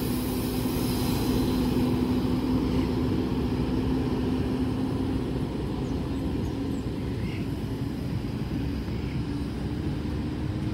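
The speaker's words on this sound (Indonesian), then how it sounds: "sangar ini suara mesinnya." A JetBus 3 coach idles at the Sukabumi bus terminal, its diesel engine rumbling steadily and fairly loud, with a constant low hum holding for the whole stretch and no talk.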